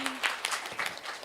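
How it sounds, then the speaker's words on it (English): Brief burst of audience applause at a youth conclave panel event in Nagpur, scattered hand claps from a crowd, moderately loud and heard on its own for about a second. "A huge round of applause for Vinayak Mahamuni, sir, please."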